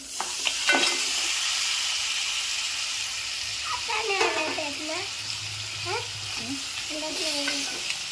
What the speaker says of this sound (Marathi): आता आपण ना खेकडे साफ करून ठेवले ते टाकते